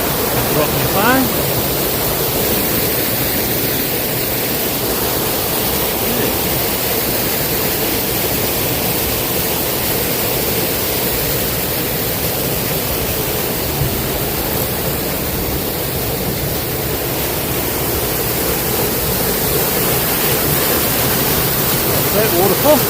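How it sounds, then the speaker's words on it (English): A constant, broad roar of a waterfall near Nelson, New Zealand, during a storm fills the scene, loud and unbroken, with a voice faintly audible under it at moments. "This is another cool waterfall."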